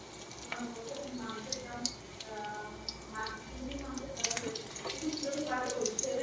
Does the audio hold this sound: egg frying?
yes